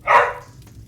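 A single short dog bark indoors in a house where the dog is chasing a fly, loud and close, followed by quiet.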